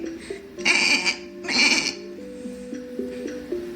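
Two loud, close goat bleats in a children's animated story, each a wavering nasal cry, set against a light melodic backing tune that continues after them.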